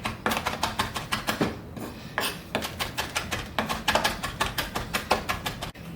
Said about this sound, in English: I really want to chop this up finally